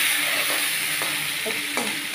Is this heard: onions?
yes